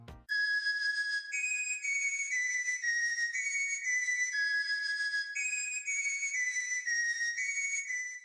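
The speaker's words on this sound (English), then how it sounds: "And then it jumps up an octave, and that sounds like this." A trap beat's mellow flute melody, now shifted up an octave, sounds as a thin whistle-like line of sustained notes repeating its pattern, clear and alone after a brief click at the start.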